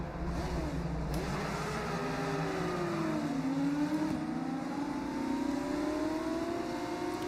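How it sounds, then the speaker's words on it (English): Formula 2 race car engines in the F1 25 game howl loudly and continuously, several cars at once with rising and falling revving pitches sweeping through gears, no talk over them. "I do like the sound of the F2 cars."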